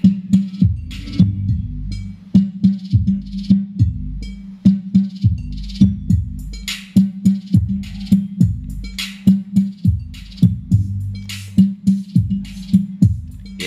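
The low-frequency band of a music track, limited to roughly 100 to 200 Hz through a DLMS 4-way speaker crossover, comes through as punchy, thumping bass and kick hits in a steady, repeating beat.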